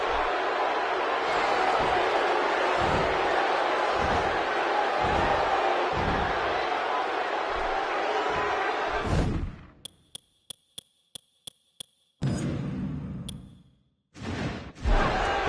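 Arena crowd noise from a sold-out wrestling match in WWE 2K16, a steady loud roar with rhythmic thumps for about nine seconds before cutting to near silence broken by short pings and brief returns of noise.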